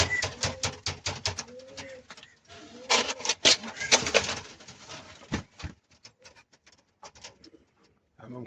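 Homing and French meat pigeons cooing in a loft, a steady run of close, overlapping soft coos with wingy shuffles and sharp clacks, fading to sparser calls toward the end.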